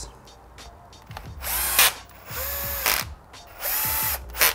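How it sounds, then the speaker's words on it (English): Cordless drill driving bolts into a Bosch e-bike motor, four separate whirring bursts of a second or so each with ratcheting clicks between, close and fairly loud. "So I've got my drill. I'm just going to loosely drive these down, like the car wheel nuts."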